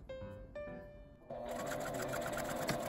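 Sewing machine stitching a small L-shaped zipper pouch from fabric scraps, a couple of short, slow stitches followed by a steady, close, rapid mechanical chatter as it sews on.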